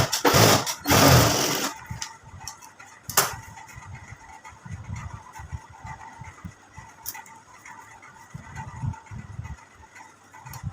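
Sewing machine stitching along the lining edge of an Aari blouse, a loud burst of running stitches at the start, then quieter intermittent handling and low mechanical noise.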